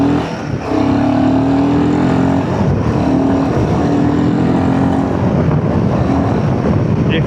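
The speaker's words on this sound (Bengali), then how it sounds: "এক্সলেট করো আর গাড়ি হাওয়া।" A car accelerates along a quiet morning road near Balurghat, its engine note rising steadily under heavy wind rush, loud and close throughout.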